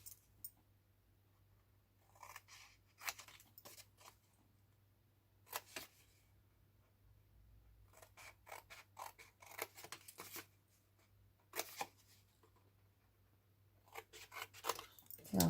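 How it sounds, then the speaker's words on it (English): Scissors snip away three small corner sections of material while making stacking tealight holders, a series of crisp, close cuts in quick clusters separated by short pauses. "just cut the 3 small sections of the corners away"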